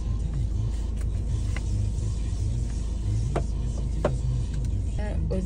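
Constant low rumble of a car interior while driving, close and unbroken, with a few light clicks and a brief voice toward the end over the road noise.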